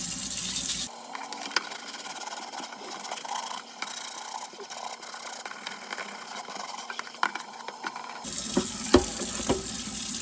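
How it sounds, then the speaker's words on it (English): Hot water runs steadily from a tap over a Ninja Foodi splatter shield being scrubbed clean, a continuous close splashing gush that shifts in tone as the flow hits the metal, with no speech. "we're gonna clean it with some hot water and we're gonna see what happens"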